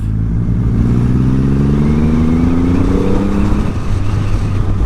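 A 2020 Triumph Rocket 3 motorcycle with a 2500cc engine, heard up close as its deep rumble rises in pitch under acceleration and then settles back to a steady low idle-like drone.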